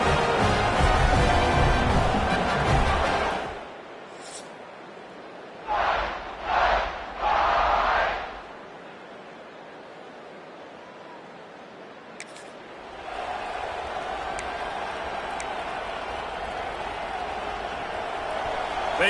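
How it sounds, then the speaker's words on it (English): Stadium crowd at a game in EA Sports College Football, with a loud roaring cheer that fades, a few short swells of yelling, then a steady crowd murmur. "They challenge this crowd to bring the energy, and I'd say they're doing that."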